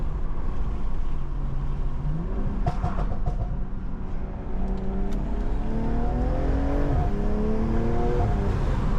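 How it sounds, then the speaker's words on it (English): BMW M340i with stage 2 tune and new suspension and wheels, driving and accelerating, its engine revving up through rising gear pulls with a shift, heard from inside the cabin with a deep rumble throughout. "I'm gonna crack the window so y'all can hear the car a little bit more."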